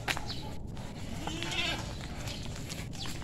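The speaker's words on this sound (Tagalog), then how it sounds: "Kambing guys." Loose, untethered farm goats bleat in short calls heard a little way off, over steady outdoor background noise.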